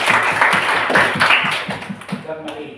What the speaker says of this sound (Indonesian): Beri tepuk tangan untuk kelompok satu